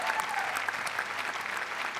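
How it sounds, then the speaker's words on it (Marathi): An indoor studio audience on a comedy show claps loudly and continuously in dense, sustained applause throughout. "जोरदार टाळ्या मॅम साठी."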